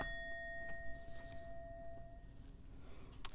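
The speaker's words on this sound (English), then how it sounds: "I'm going to go ahead and ding the bell." A single small bell is struck at the start, and its clear high tones ring out and slowly fade over a couple of seconds in a quiet room, followed by a faint tap near the end.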